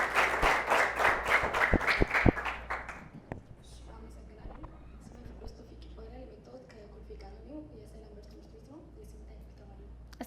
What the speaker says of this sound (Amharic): ለአብርሃም በደንብ አድርጋችሁ አጨብጭቡለት።